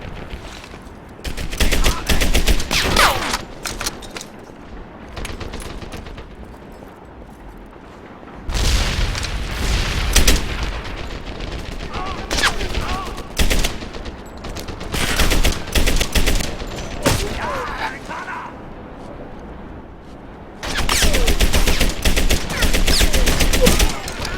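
A German MG machine gun fires in a World War II video game, loud rattling bursts and booming shots in several dense salvos, close and forceful with short pauses between, barely any talk.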